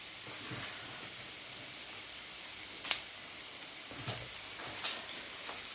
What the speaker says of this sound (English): I'm just going to just stir fry the onions and the garlic